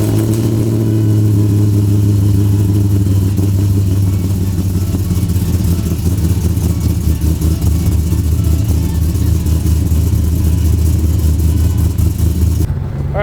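An LS86 car fitted with a single muffler pulls away, its deep, steady engine drone loud and close for most of the stretch, with a low rumble holding throughout before cutting off near the end.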